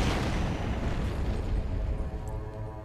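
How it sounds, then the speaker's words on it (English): A big in-game explosion in Max Payne 3, a loud sustained roaring blast with deep rumble that fills the whole moment and slowly trails off, no talking over it. "It's gonna give one hell of an explosion."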